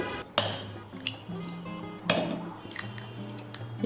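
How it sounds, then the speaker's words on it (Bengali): Two eggs cracked into a glass blender jar for a quick microwave pudding, giving two sharp, close cracks with brief clinks against the jar over a steady low background hum. "এখন আমি একটি ব্লেন্ডারের জারের মধ্যে ডিম দুটো ভেঙে নিয়ে নিব"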